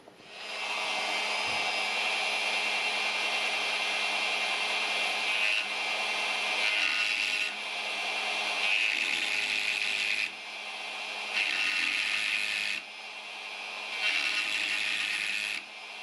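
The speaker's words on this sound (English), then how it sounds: "let's start with the Dremel tool" A high-pitched rotary tool whines continuously, its pitch shifting slightly as it grinds and drills in repeated passes.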